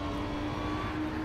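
Audi race car engine in the racing game Assetto Corsa Competizione: a steady, loud droning hum with a sustained whining tone, holding a constant pitch with no voices.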